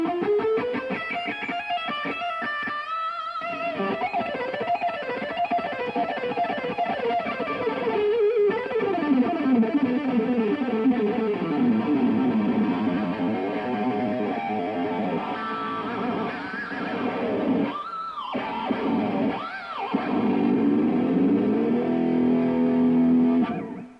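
Fast shred lick on electric guitar, with rapid, fluid melodic runs and sweeping slides played alone and fairly clean, ending in a sustained bent note.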